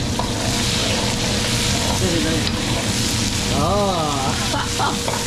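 Food sizzles and fries at a night street stall in China, a loud, steady hiss with clattering utensils and busy background chatter from people nearby.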